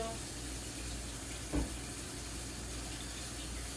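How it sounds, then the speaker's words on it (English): Water running from a kitchen sink tap during handwashing after handling raw meat, a steady close hiss with one short knock partway through. "I'm going to go to the sink and wash my hands"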